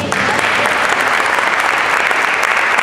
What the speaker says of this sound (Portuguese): Quem crê, aplauda ao Senhor Jesus.